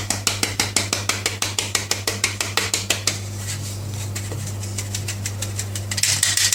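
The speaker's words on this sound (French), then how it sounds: "On tamise 150 g de farine." A sieve of 150 g of flour is tapped in quick, regular metallic rattling beats that slow and fade into softer shuffling and rustling, with some scraping at the end.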